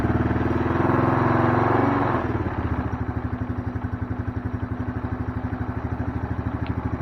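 A 1998 Arctic Cat ATV engine idles close by with a steady, even putter, briefly revving louder and busier for the first two seconds before settling into a rhythmic idle.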